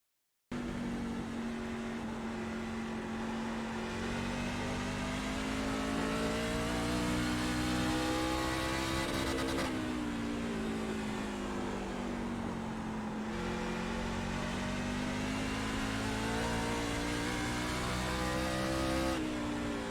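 ARCA stock car engine in the iRacing sim holds a loud, steady, high-revving drone through a hot lap, dipping and rising slightly through corners and gear changes, heard close and continuous with no talk.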